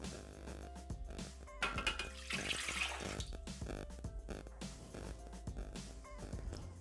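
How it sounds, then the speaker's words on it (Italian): Water is poured into the bowl of a Thermomix (Bimby TM6) to start a Sicilian black bread dough, a faint continuous splashing trickle that runs steadily for several seconds with no talking. "Iniziamo la ricetta mettendo all'interno del boccale l'acqua."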